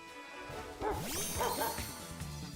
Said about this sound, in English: Look at that beautiful doggy.